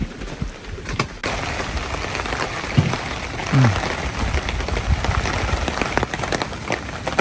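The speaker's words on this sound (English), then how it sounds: "Lunch in the rain." Steady rain pattering on surfaces nearby, with scattered drips and a few soft thumps, continuous and moderately loud.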